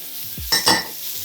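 Asparagus is tossed in a hot pan of garlic herb butter, giving a short double burst of sizzling swish over a faint background hiss, with no talking.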